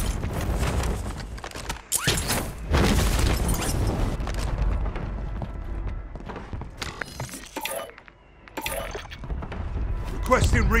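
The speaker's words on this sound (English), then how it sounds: "Mortar strike on the way." Mortar strike explosions in Call of Duty Warzone, several heavy booms and crackling blasts at irregular intervals amid gunfire and game noise, with a voice speaking over part of it.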